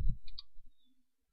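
A computer mouse gives a couple of small, sharp clicks close by in an otherwise quiet room, no talking.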